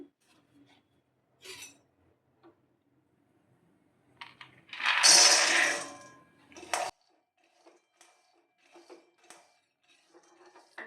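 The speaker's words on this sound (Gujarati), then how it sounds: "તો હવે આપણે ગેસ ચાલુ કરીને સિંગદાણાને શેકી લેશું" Peanuts roasting in a pan on a gas stove, with sparse clicks, then a loud burst of rattling and scraping as the nuts are stirred and tossed against the metal, followed by a few quieter knocks.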